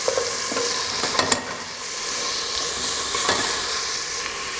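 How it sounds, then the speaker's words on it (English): Finely chopped peppers sizzle steadily in hot olive oil for a beanless beef chili, a dense, continuous frying hiss with a few sharper stirring scrapes, close and loud, with no talking. "So I'm throwing it into the olive oil."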